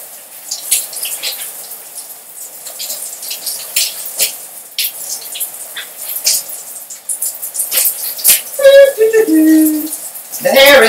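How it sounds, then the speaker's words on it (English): Water splashes and drips while hair is rinsed during a haircare routine, a patchy run of soft trickles and splatters with a few louder bursts near the end. "So now I'm just going to rinse it out."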